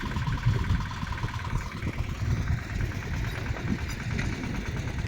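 A tractor engine idles and runs steadily in a farm field during peanut sowing, a continuous low mechanical rumble with a rough, knocking texture throughout.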